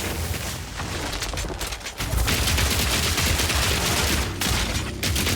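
Sustained automatic gunfire from a gun in Path of Exile 2, a dense, loud, continuous rattling burst that carries through the whole stretch with a brief dip near the start, no voices over it.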